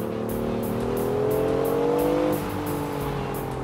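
A BMW i8 Roadster convertible accelerates on a road with a loud, steady engine note that climbs in pitch, then drops sharply at a gear change before pulling again. No one speaks.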